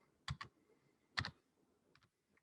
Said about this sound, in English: I'm just typing this in because it's easier